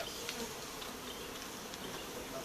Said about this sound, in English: The bees are very calm.